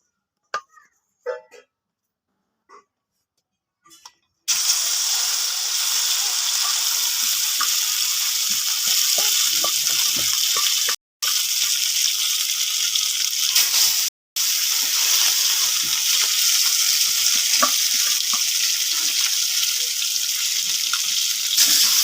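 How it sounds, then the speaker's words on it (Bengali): Fish marinated in salt and turmeric frying in oil for a Bengali fish curry: a loud, steady hiss that starts suddenly after a few faint clicks and runs continuously, with two brief cuts. No one speaks. "লবণ আর হলুদ মাখিয়ে রাখা মাছগুলো ভেজে নেব।"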